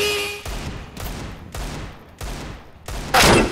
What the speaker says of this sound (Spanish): le estaba disparando